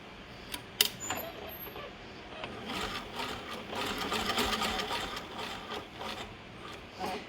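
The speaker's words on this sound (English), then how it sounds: "This machine is so old, but it sews so beautiful." An old sewing machine stitches the exterior of a Miss Parker bag, its close, rapid mechanical whir running steadily after a couple of sharp clicks at the start.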